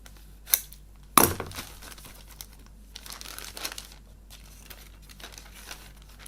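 Clear parts of a 1/72 Heller Nord Noratlas plastic model kit being cut from their plastic bag with scissors: a sharp snip, then crisp crinkling and rustling of thin plastic in a quiet room.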